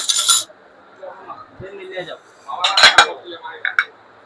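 Ceramic half plates handled at a shop stall in Dhaka New Market, with several short clinks and clatters: one burst at the start and a denser cluster of knocks near the end. Quieter shuffling and a voice fall in between.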